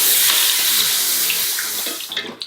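Six cups of water poured into a pot of just-fried rice for a Cambodian pork and rice dish, a loud continuous gushing splash that tapers off toward the end.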